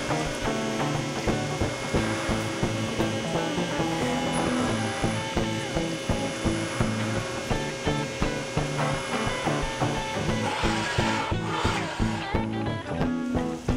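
Continuous loud machining noise from beveling the edge of a metal PC mod ruler, a gauge marked for PC cooling fan sizes, with a steady dense grinding and rattling texture and rhythmic ticking throughout, heard alone without voices.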